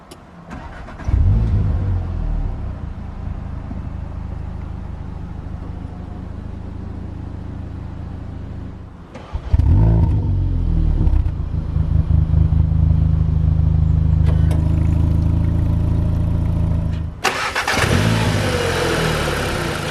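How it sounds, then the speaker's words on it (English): A 2019 Cupra Ateca starts with a push button: the engine cranks and catches, settles into a steady idle, then restarts or revs louder about halfway through and keeps running before a sharp change near the end. "So to start, just have the key fob somewhere inside the car, put your foot on the brake, and then hit the button to start."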